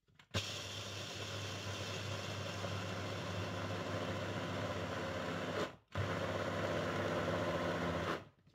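An electric grinder steadily grinds ingredients for briouats with peanuts, a loud continuous motor whir running close by, briefly cut off and restarted before stopping.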